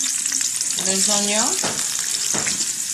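Onions tipped into hot oil for a Congolese plantain stew, giving a steady broadband sizzle with a tonal scrape or squeak of stirring in the middle and a couple of sharp utensil knocks.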